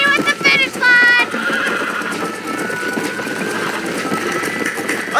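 A horse whinnies loudly near the start in the video game Red Dead Redemption, followed by steady galloping hoofbeats and a rumbling background through the rest.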